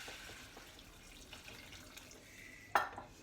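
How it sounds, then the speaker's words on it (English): About 500 millilitres of water is poured into a pot of pea and mint soup, a soft splash and trickle over a low kitchen background, with a brief louder splash near the end. "that's about 500 millilitres of water. I'm just going to drop that in there."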